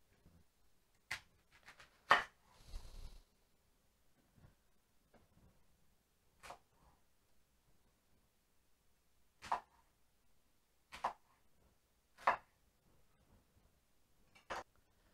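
A knife cutting an onion into pieces for a Finnish summer vegetable soup, a handful of sharp, isolated chops on a board, spaced out and fairly quiet in an otherwise still room.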